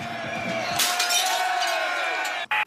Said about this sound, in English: started smashing windows